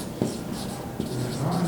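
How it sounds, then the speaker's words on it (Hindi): Marker or chalk writing on a board during a lecture on alternating current circuits, with a few soft scratchy strokes and taps close by and quiet speech in the background. "तो मैं यहाँ पे फर्दर लिख लेता हूँ"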